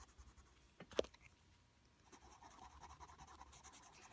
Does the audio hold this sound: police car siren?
no